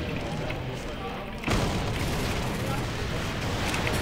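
Video game combat with a grenade blast: a sudden loud boom hits at about the 1.5-second mark and leaves a sustained rumbling, noisy wash over background battle sounds.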